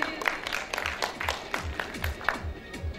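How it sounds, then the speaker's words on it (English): After a singing performance at a college cultural festival, an audience gives a modest round of applause, with scattered, uneven claps and a few louder individual hits, with some faint voices mixed in. "give a big round of applause for him"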